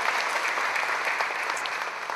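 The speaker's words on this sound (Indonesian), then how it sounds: "Mau tepuk tangan?" Brief, dense audience applause at a Buddhist dhamma talk, steady clapping throughout with no speech over it.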